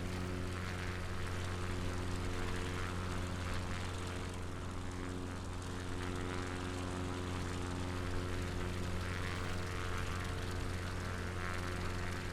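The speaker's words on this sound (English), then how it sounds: "Let's get the plane up." A propeller light aircraft flies along the coast between Bournemouth and the Isle of Wight, its engine a loud, steady, droning hum with a constant pitch that holds throughout, with no talking.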